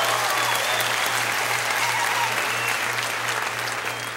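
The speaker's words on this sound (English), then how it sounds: "You can clap." An audience at a Healthy Laughs comedy show claps steadily, a thick, even roar of hands lasting around four seconds over a low constant electrical hum, with no one speaking.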